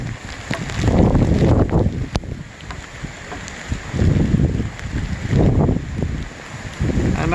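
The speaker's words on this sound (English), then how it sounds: "but you can see how windy it is" In a high desert storm with rain and hail, strong wind gusts rumble loudly against an uncovered microphone in repeated heavy surges, easing briefly between blasts.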